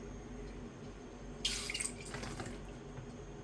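Cooking oil poured into a frying pan set on the stove for frying onion vada: a sudden splashing, liquid rush halfway through that tapers off into a softer trickle over low kitchen hum.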